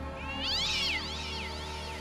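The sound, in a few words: cat growling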